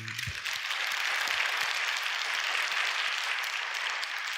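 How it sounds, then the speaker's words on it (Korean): A church congregation applauds during a Korean sermon, a broad, even wash of many hands clapping that fills the hall, heard at moderate volume with no speech over it. "하나님께 박수합시다."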